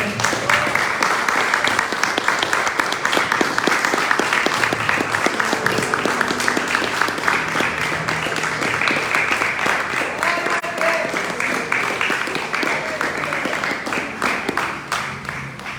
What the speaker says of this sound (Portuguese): Vamos dar uma linda salva de palmas ao Senhor